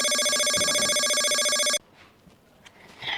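A phone rings with a loud, steady electronic ringtone for nearly two seconds and then stops, leaving quiet room noise with small rustles.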